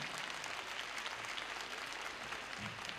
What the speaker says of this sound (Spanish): ¡Dale un aplauso a Manila del Gorila!